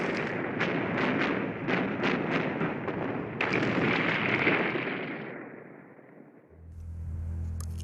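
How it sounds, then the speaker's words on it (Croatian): Massed artillery guns pound in a heavy bombardment, a dense rolling roar of overlapping booms that slowly fades into a low droning rumble, with no voices. "If you just hear one gun go off now, it sounds deafening."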